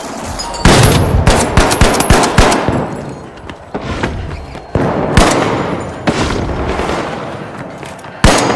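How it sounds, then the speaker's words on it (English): Rapid bursts of gunfire and a flashbang detonation in a video game match, loud sharp cracks and booms crowding together in a busy barrage, with no talk. "Throwing a flashbang."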